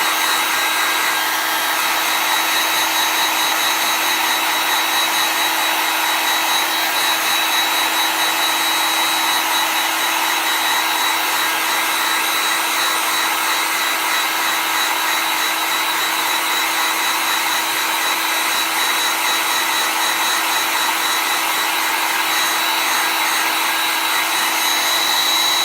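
A hair dryer dries chalk paste on a Christmas tier tray, giving a loud, constant whirring blow with a steady pitched hum throughout, close and uninterrupted, with no talking.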